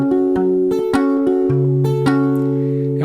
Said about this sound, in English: And 14 and 15 sound like this.